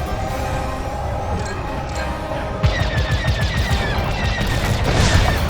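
Starfighter laser cannons fire in rapid bursts during a Star Wars: Squadrons space battle near a station, a dense crackling barrage that grows louder and more intense halfway through, with booming impacts underneath.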